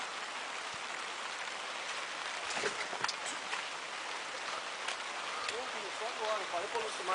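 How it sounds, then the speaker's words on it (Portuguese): Rain falls outdoors as a steady, dense hiss of drops on surfaces, with occasional louder splashes and faint voices talking in the background throughout. "olhando a chuva vindo"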